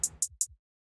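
Hi-hat hits programmed in LMMS, three quick crisp ticks in even succession, each with a soft low thump beneath, ending in silence.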